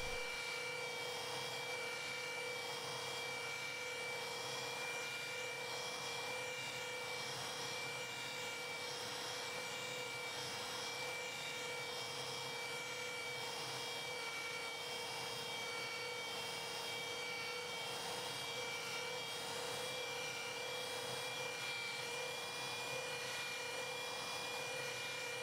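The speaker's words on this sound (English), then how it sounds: "Polish the area working the finishing glaze into the compounded area." A polishing machine works Bodyline finishing glaze into a compounded car panel, giving a steady, even motor whine with a constant pitch and no pauses throughout.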